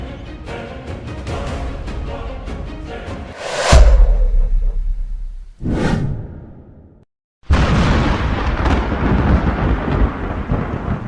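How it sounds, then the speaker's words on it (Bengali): Thunder during a rainstorm: a deep rumbling crack swells and fades, a second boom follows, then after a brief gap a dense roaring wash of storm noise continues loudly. "বজ্রপাত মেঘ ডাকা কিংবা বিজলির ঝলকানি বিভিন্ন নামে ডাকা হয়"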